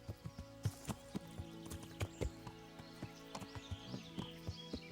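Horse hooves clip-clopping in a steady, evenly spaced rhythm from a medieval game, fairly quiet and close, with a soft ambient music bed underneath.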